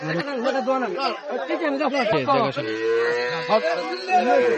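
Cattle low repeatedly with drawn-out, wavering moos close by at a cattle market, including a bull with a calf, while people chatter in the background.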